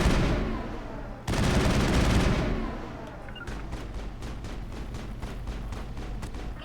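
Mass Effect combat: a burst of rapid automatic gunfire and a rocket blast, then a dense rumbling barrage followed by spaced, repeated sharp gunshots over a low background drone.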